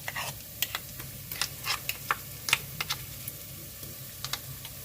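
Ground chili paste fries with onions in a pan while being stirred, heard as a soft background sizzle broken by sharp clicking scrapes of the spoon in an irregular rhythm.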